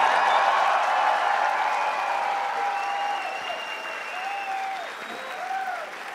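A large crowd at a men's bouldering final in Prague applauds and cheers in a dense, sustained wash of clapping with shouts and whistles, gradually easing but continuing throughout.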